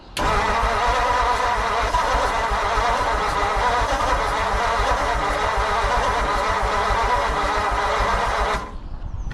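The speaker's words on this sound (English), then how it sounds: "We're gonna just see what it sounds like when I hit the key." A 1940 Mercury flathead V8 engine, unrun since the 1970s, cranks and catches into a rough, loud running rumble that holds steady for several seconds before cutting off near the end.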